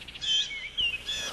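Birds at a Squirrel Buster Classic feeder give short, high chirps and tweets, a few quick calls close to the microphone over quiet background.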